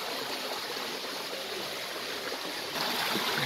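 Spring water flowing over the stream bed at the Ein Rahaniya springs, a steady, close rushing babble that swells slightly near the end, with no voices.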